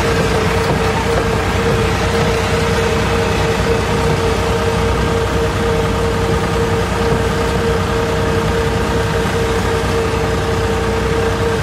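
Steady, dense rain hisses without a break over the constant drone of a tractor engine during a ride, loud and close throughout with no speech.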